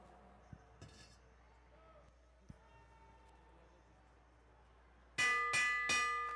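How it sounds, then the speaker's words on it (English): A bell clangs rapidly several times to mark the last lap at a bicycle race, loud and close after a stretch of quiet crowd ambience with a few scattered knocks. "Hear the bell on the next lap."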